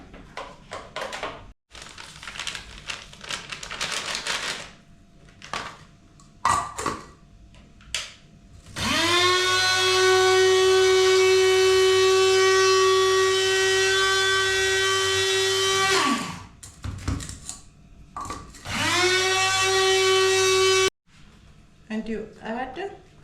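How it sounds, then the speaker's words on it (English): Small electric coffee grinder whirring through a watery carrot and pineapple cake mixture, two loud sustained bursts with a rising whine, separated and framed by someone talking. "so now I just have to grind a little"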